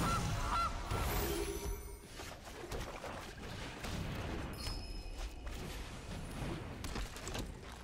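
Goose card sound effect from the MTG Arena digital card game: honking goose calls amid busy layered game effects, fairly loud at the start and continuing under a dense mix.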